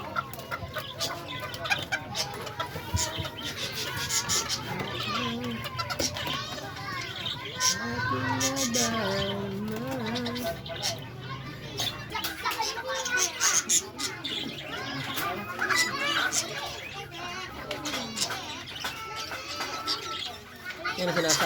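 Bantam chickens cluck in a busy yard with playing children. Clucks and fowl calls are mixed with steady chatter and children's voices that run all the way through.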